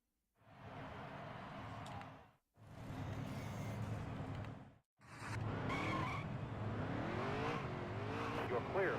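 Race cars at Darlington in a racing video game scream past in three loud bursts separated by brief silences, with tires squealing and engines rising in pitch toward the end.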